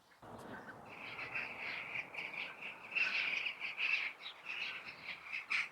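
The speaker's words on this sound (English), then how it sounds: "Oh, there's the corvids." Corvids calling outdoors beside a small Miyawaki-style planted forest, a series of harsh repeated caws at moderate distance over faint background ambience, coming in irregular bursts that grow busier toward the end.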